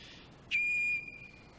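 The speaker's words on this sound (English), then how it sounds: "Now, I was working on my own whistle" The harbour master's whistle from the Theodore Tugboat harbour gives a single clear, steady blast of about half a second, loud and close, trailing off into quiet air.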